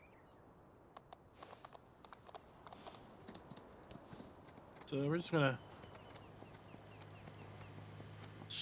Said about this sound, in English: Time to start riding our horses.